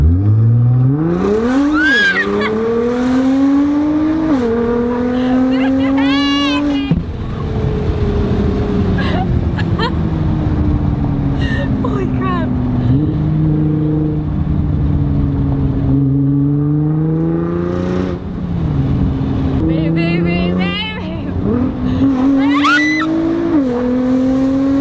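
A 2017 Nissan GT-R fitted with an Armytrix Valvetronic exhaust launches hard, its engine climbing through several loud, sweeping revs and gear changes with a brief tire squeal, close and continuous over about twenty-five seconds.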